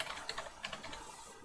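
Quick burst of typing on a computer keyboard during local Rust development setup, a short run of light, close key clicks in an irregular rhythm, heard alone.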